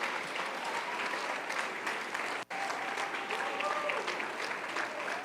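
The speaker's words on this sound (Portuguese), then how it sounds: "aplauda a ousadia dessas pessoas" A church congregation applauding, continuous steady clapping from many hands at moderate distance, briefly cutting out for an instant midway before resuming, with a few faint voices mixed in.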